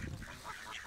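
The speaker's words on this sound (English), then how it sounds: "This is an Egyptian goose, this one with the orange eyes." A short burst of Egyptian goose honking, harsh and nasal, close by, at a reservoir.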